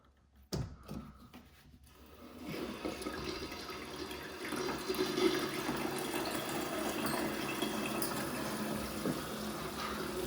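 A toilet cistern filling after the water supply is turned on: a sharp knock, then a rising, steady rush and hiss of water flowing into the tank, continuous and close, with no voices.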